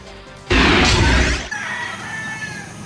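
Fighting roosters at a farm in Pugo, La Union give a loud, dense burst of crowing and clucking lasting about a second, followed by a softer, drawn-out crow over background noise.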